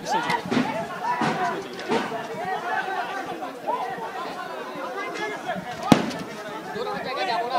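A crude cocktail bomb goes off during a clash between students and locals at Chittagong University: one sharp, fairly close bang cutting through steady crowd chatter and shouting.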